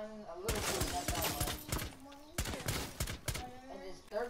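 Sharp gunshots in a Rainbow Six Siege match, coming in two clustered bursts of cracks, loud and near, with a player talking over them.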